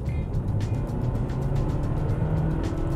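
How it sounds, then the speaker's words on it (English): A 2017 Mitsubishi ASX with a CVT transmission flares under acceleration, giving a steady, loud, continuous engine drone with a strong low rumble that holds at a constant pitch for three seconds, with no voices. "Adding to the assault on your ears is the CVT transmission, which flares when you need to accelerate"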